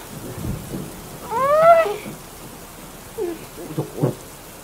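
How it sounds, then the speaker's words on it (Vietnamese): Heavy rain and wind with thunder make a steady, moderate background wash broken by low rumbles, with a brief higher-pitched cry and a few short knocks standing out over the storm. "sao trời lại mưa to gió lớn như thế này"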